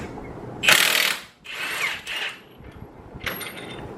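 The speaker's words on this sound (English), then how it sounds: "I'm using a Milwaukee M18 half-inch drive with a 15/16 or a 24mm socket." A Milwaukee M18 half-inch drive impact wrench with a 15/16 or 24mm socket works the crankshaft bolt of a Chevy LS engine. Three loud bursts of hammering whir come close up and alone, the first the longest.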